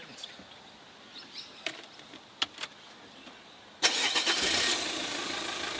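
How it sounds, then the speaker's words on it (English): A 2007 Renault Megane 1.9 dCi diesel engine cranks and fires up after a few faint clicks and knocks, then settles into a loud, steady clattering idle. "The engine's a bit noisy. I'll show you up."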